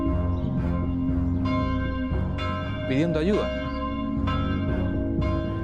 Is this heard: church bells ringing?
yes